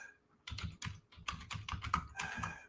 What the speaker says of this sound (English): The clicking is the keyboard.